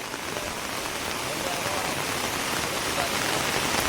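Heavy monsoon rain pours steadily in the Jim Corbett forest area near Marchula, a dense, continuous hiss of drops striking surfaces close by, unbroken for the whole stretch.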